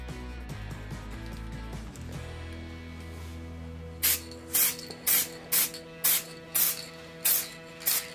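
Spray can priming a tabletop diorama terrain base, about eight or nine short loud hissing bursts in an even rhythm, heard after a stretch of low steady hum.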